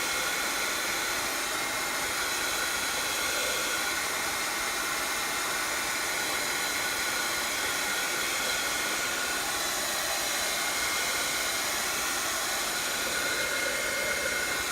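A dryer blows hot air over paint on a craft journal page, giving a continuous, even airy whoosh that holds steady and close for the whole stretch with no pauses.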